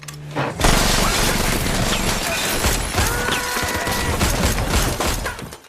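A dense, loud burst of rapid gunfire erupts and continues in a chaotic volley, with cracks and booms overlapping throughout.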